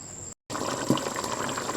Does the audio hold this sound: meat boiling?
yes